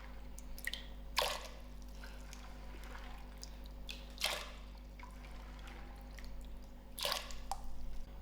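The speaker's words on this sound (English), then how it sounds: "to the boiling water, I'm going to firstly add in my beans that I peeled out." Peeled beans drop into boiling water in a pressure cooker, making a few wet splashes and plops over a steady low hum.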